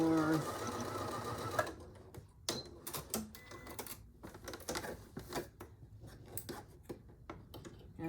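A sewing machine runs a short burst of stitching on an artist case with box corners, then stops; scattered clicks, taps and handling knocks follow as the fabric is adjusted, with a person talking over it.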